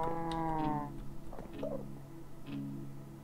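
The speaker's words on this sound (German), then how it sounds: "da steht eine grüne Kuh" A green Liquid XP cow in a modded Minecraft SkyFactory world moos once in a long, clear, drawn-out call, then faint game sounds and light clicks follow.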